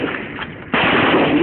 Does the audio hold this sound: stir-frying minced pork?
no